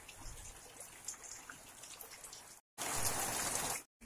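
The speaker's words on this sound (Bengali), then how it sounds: "মারাত্মক বৃষ্টি হচ্ছে।" Heavy rain pours down in the lane in front of a house, a dense, continuous hiss of drops striking surfaces, broken by two brief silent gaps.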